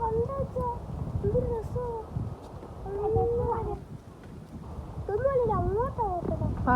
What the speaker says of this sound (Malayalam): വാ പൂച്ച, നമുക്ക് അങ്ങോട്ട് പോവാം.